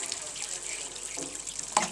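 Tap water runs steadily while metal parts from a Bandit motorcycle are washed in a home garage, a continuous hiss with a brief splash near the end.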